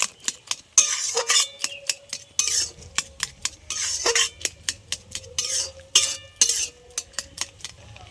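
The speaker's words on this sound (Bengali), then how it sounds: "ফুলকপিটা পুরো আমি ঘেটে নিয়েছি একদম" Boiled cauliflower being stirred and mashed in a metal pot, with a run of sharp, rhythmic scraping and clinking strokes of a utensil against the pot, close and loud, with no voices.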